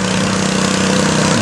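A Blue Thunder tractor rolls through the pits, its engine holding a loud, steady, close droning idle with an even throb and no voices.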